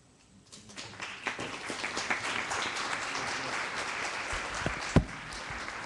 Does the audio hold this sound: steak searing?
no